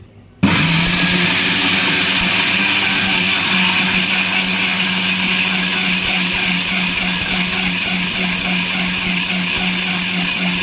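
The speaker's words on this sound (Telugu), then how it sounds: "ఉల్లిపాయలు పచ్చిమిర్చి కొద్దిగా ఉప్పు వేసుకొని గ్రైండ్ చేసుకోవాలి" A grinder runs steadily, loud and close, blending onions, green chillies and salt for a kabuli chana masala curry, starting abruptly after a brief quiet moment and whirring continuously without a break.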